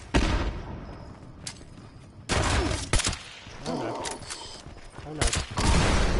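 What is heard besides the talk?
grenade explosion in video game Fallout 76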